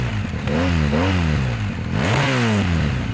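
A BMW R 1250 GS motorcycle exhaust rumbles steadily at idle up close, its deep throaty note swelling and dipping with a few light blips of the throttle.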